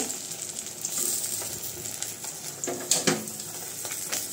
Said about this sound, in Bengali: মাছ ভেজে নিতেছি